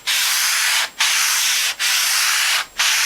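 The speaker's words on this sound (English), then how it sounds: "take some 400 grit sandpaper and in straight lines sand back and forth as I'm doing here" Oiled 400 grit sandpaper rubbed in straight lines over a stainless steel juicer top, a loud, close rasping hiss in four long even strokes separated by short pauses.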